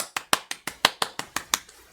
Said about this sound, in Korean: 야, 다시 박수!